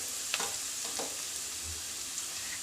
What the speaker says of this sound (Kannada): ಈರುಳ್ಳಿನ ಒಂದು ಮೂರು ನಿಮಿಷದವರೆಗೂ ಸಹ ಮೀಡಿಯಮ್ ಫ್ಲೇಮಲ್ಲಿ ಚೆನ್ನಾಗಿ ಫ್ರೈ ಮಾಡ್ಕೊಂಡಿದ್ದೀನಿ